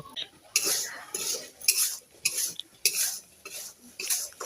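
Salt heats in a wok while being stirred, heard as a series of loud rhythmic gritty scrapes and rattles roughly every half second, close and with no voices.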